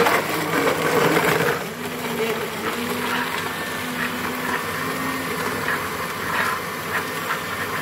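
A blender whirs as it mixes a mint drink with black salt and ice, a steady loud motor hum that surges at the start then settles into an even grinding whine, without speech.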